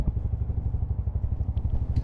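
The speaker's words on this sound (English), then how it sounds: "Also like the sound of the single cylinder engine 350. Got a nice little note to it." A Royal Enfield Hunter 350 single-cylinder motorcycle engine idles close by with a steady, rapid, low thumping beat, loud and even throughout with no talk.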